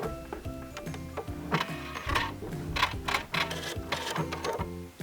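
A sewing machine zigzag-stitches along the raw edge of a jeans hem. It makes a close, rapid, rhythmic mechanical clatter that stays steady for several seconds, with no voices.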